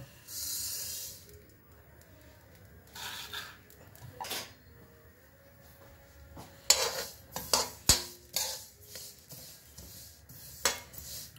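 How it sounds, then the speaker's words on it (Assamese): Sesame seeds dry-roasting in a dry wok, heard as faint scraping and rattling from stirring, with clusters of louder clinks and scrapes toward the end against a soft hiss. "খুব বেছিকৈ ভাজিব নালাগে, অকণমান গোন্ধটো ওলোৱাকৈ আমি এইদৰে শুকান কেৰাহীত আমি ভাজি ল'ম।"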